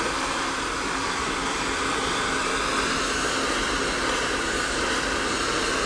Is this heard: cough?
no